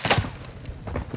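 A magazine change during a Call of Duty Modern Warfare 2 multiplayer match produces a couple of brief, close mechanical clunks and thumps in quick succession.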